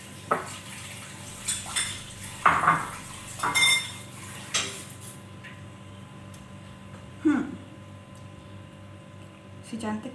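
Pots and utensils clank and scrape while cornet and butter are cooked in a home kitchen, several sharp metallic knocks spread out over a quiet background, with a voice talking at times.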